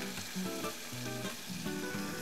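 Onions caramelizing in a pan sizzle and crackle steadily, with a burst of louder hissing as a little water is added to deglaze, all close and continuous without talk.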